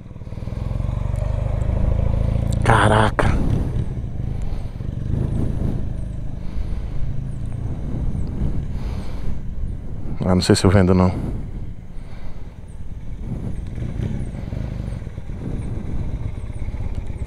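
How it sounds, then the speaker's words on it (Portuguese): A Honda CB450 Custom motorcycle engine runs steadily and fairly loud, with a low, even rumble and a couple of brief clattering bursts, while people talk over it in Portuguese. "O barulho do motor como tá redondinho, tá reloginho"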